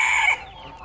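A rooster in a city backyard coop holding Istanbul and Swedish breeds and hens gives a short, loud crow that cuts off abruptly, followed by faint quiet.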